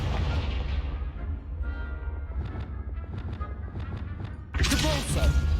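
Confringo explosion spell cast in Hogwarts Legacy, heavy booming blasts with rapid crackling bursts, then a louder burst near the end.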